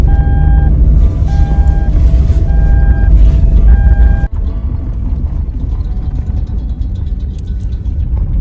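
A convoy of vehicles runs one after another along a narrow, snow-banked single-lane road into a nature reserve at minus 21 degrees. Heavy engine rumble rolls on loudly and continuously, with repeating beeps through the first half.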